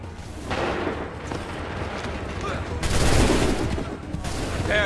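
Musket volley in Assassin's Creed 3: bursts of gunfire and booming shots, loud and rolling, with a heavier surge of fire partway through, amid battlefield noise.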